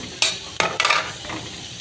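Bamboo-leaf dried fish fries in oil with onions, broken by several sharp bursts of spatter and stirring scrapes over a low hiss, close and without voices.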